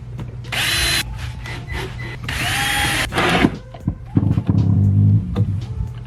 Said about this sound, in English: I'm gonna drill my holes through the top down.